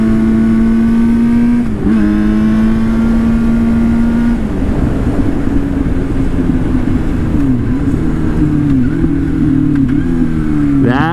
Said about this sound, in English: This bike sounds really good, though.